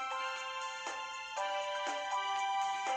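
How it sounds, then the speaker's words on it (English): A mobile phone ringtone in a horror visual novel game, a bright repeating electronic melody of tonal notes in a steady rhythm, playing alone at moderate volume. "my mobile phone started ringing and displayed Yuji's number"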